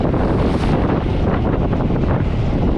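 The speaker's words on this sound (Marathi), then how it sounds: "वातावरण जरा बदल आहे वारा जास्त आहे" Strong wind roars steadily over the sea around a deep-sea fishing boat off Mumbai, a loud continuous buffeting rush battering the microphone, with waves and water noise beneath.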